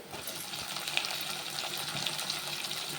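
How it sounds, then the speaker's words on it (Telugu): Onions and tomatoes sizzle in a hot pan for a Telugu vada curry, a steady hissing fry that holds at an even level throughout with no talking over it. "ఇదిగోండి ఉల్లిపాయలు వేసి టమాటాలు వేస్తాం."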